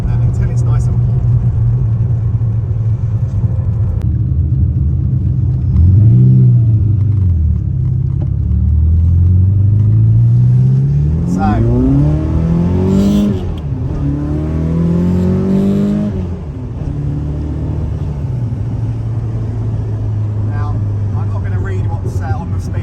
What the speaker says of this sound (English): as the car's now warm, it's a completely different note to what you get when it's cold